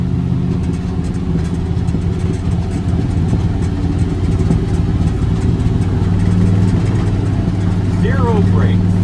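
Engine of an old car nicknamed Big Bertha droning steadily while it rolls down a small hill with almost no brakes, loud and close, with a brief squeal near the end.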